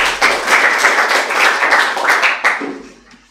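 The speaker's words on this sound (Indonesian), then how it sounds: "Terima kasih, tepuk tangan." Applause from a classroom of students, a dense burst of clapping that starts abruptly, holds steady and then tapers off toward the end.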